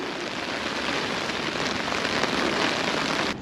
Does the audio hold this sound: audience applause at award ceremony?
no